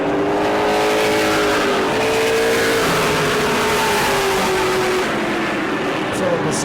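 Stock race cars roar around the New Smyrna track with continuous loud engine drone and shifting pitch as they pass, under steady commentary.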